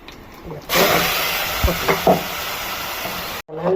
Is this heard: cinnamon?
yes